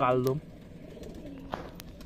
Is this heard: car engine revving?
no